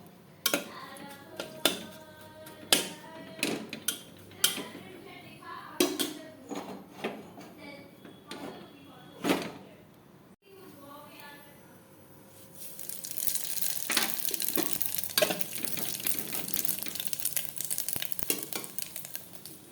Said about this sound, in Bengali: কালো জিরা রাঁধুনি রাখলাম, এই দুটো দিয়ে দিই, তাকে লঙ্কাটা ভালো করে পুড়ুক।